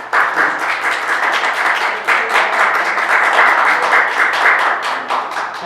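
An audience gives a sustained round of applause at a literary event honoring a novelist, steady clapping from many hands swelling slightly and holding throughout.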